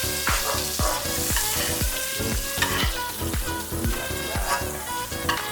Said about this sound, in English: As you can hear the sound, it means it's dancing in the pan. It's moving around, swimming in the oil.